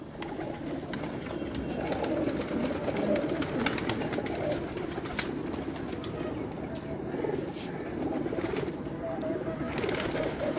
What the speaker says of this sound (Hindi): ये भी लाल परी कबूतर है जी, ये चेक करें।